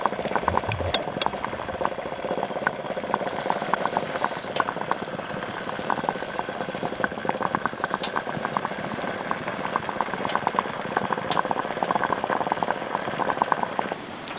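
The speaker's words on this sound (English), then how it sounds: "So we'll just let that lard melt down." Lard melting with pine tar and resin in a pot, bubbling and crackling steadily and densely with fine popping throughout, close and fairly loud, no talking.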